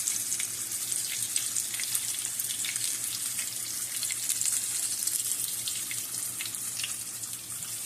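White catfish fries in a hot pan with a steady, close hiss and crackle of oil, continuous and even with no talking.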